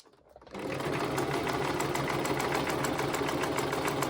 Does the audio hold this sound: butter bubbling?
no